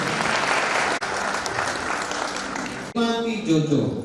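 Loud, dense applause fills a wedding ceremony, the clapping of the gathered guests steady and continuous, with two brief gaps before a voice begins speaking over the fading claps.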